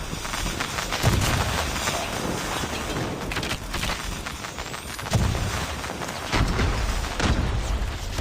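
A grenade explodes in a first-person shooter video game, its deep booming bursts rising out of a steady wash of loud gunfire and combat noise that runs throughout.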